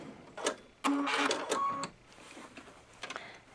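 Babylock Solaris 2 sewing machine running short bursts of stitching and tying off, a close mechanical whir with sharp clicks and a brief motor hum between quieter pauses.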